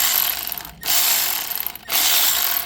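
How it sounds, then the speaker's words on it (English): A hand ratchet breaks loose a bolt on the AC compressor of a Mitsubishi Outlander, making two loud, close bursts of rapid clicking separated by a short pause. "So let me grab my ratchet just like so, and then we break it loose."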